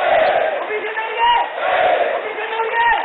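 A crowd cheers and shouts with applause in a doctors' auditorium at Mysore's GK Ground during a felicitation event, a dense, steady roar of voices swelling and easing throughout.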